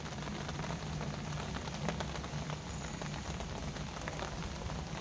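Steady rain falls on an orchard of cherry trees, a dense, even hiss of drops striking leaves and surfaces that continues without pause.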